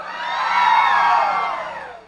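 A crowd at a contest show in Quilalí, Costa Azul, cheers and whoops for a contestant, a loud swelling roar of voices that rises and fades over two seconds.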